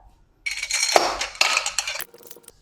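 Metal pipe slid into the rack of a PDX-550 electronic drum kit during assembly, a close burst of scraping metallic clinks and rattles lasting about a second and a half, then a short clack and fading rattle.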